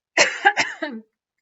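Three quick, dry coughs in a short burst, close up and moderately loud, followed by silence.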